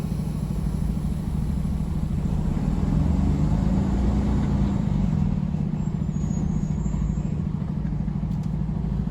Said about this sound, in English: So I release my brakes, put it in drive. Be sure to check your mirrors, make sure it's safe to move. Pull forward.